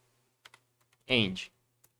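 A handful of isolated key taps on a computer keyboard while a terminal command is entered, sparse and light, with a short burst of speech in the middle.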